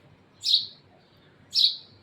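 Two short, high sparrow chirps, evenly spaced about a second apart, clear and close against a quiet background.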